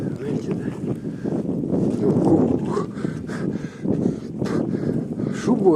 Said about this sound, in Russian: Ух, ветрюга.